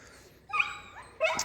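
A hunting dog close by lets out two short, high-pitched whimpering yips, each a brief whine with a gap of quiet between them.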